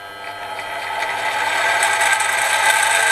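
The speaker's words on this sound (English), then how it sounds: "Gears sound very noisy there." A small benchtop milling machine whirs steadily and grows louder, its noisy gears grinding and rattling in a harsh, continuous mechanical noise with no voices.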